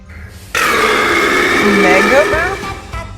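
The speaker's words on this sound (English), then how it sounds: "Mega Burp?" A loud, long burp, close and drawn out for a couple of seconds, rising and falling in pitch.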